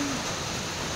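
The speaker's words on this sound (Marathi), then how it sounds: "बघा अजून पावसाचा जोर वाढला" Heavy rain pouring onto an open terrace, a dense, even hiss that holds steady throughout, close and continuous with no voices.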